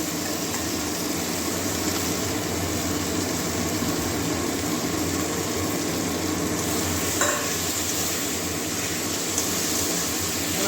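Potatoes and kundri frying and being stirred into a cooked-down spice paste in oil, a steady, dense sizzle that stays loud and even throughout with a faint scrape near the middle.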